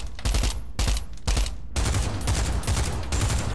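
Loud gunfire in the VR shooter Pavlov VR: three short automatic bursts separated by brief gaps, then a longer sustained stream of rapid fire, close and harsh with no talking.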